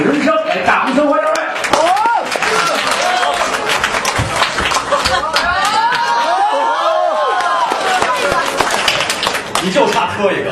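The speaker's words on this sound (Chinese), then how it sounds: "在大家用热烈掌声再次欢迎苗阜跟他搭档王声" A theatre audience claps and cheers loudly to welcome a pair of crosstalk comedians onto the stage, a dense sustained roar of applause with voices rising over it.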